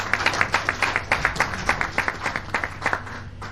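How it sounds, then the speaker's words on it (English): Audience at a university ceremony in Lagos claps steadily in a dense round of applause, moderately loud and consistent throughout, with no voices above it. "A round of applause for him."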